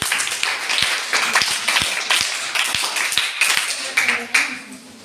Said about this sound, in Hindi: वाह भाई वाह, ताली बजाओ इनके लिए।